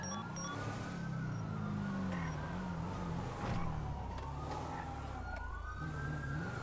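A wailing video game police siren rises and falls steadily over a low engine rumble, sounding like a police car passing nearby, with no talking.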